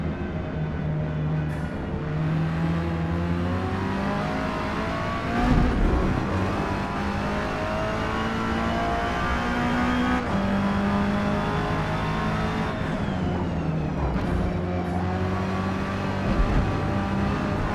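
A Mazda MX-5 Rocket Bunny race car in the video game Forza Motorsport roars continuously as its engine revs rise and fall through gear shifts during an online race, with other cars audible nearby.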